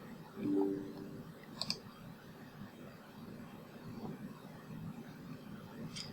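A computer mouse clicks while installing Google Chrome on Windows 11: a single sharp, close double click in the middle of the clip, over quiet room hiss with no talking.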